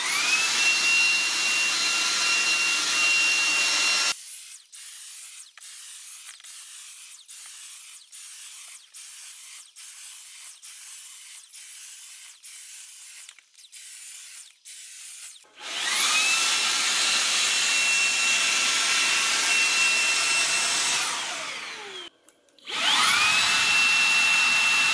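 A Lidl Silvercrest 300 W anti-dust-mite vacuum cleaner with UV lamp and small motorized brush runs at maximum power as a loud, close, hissing roar. It cuts out and back in, with a quieter pulsing stretch in the middle.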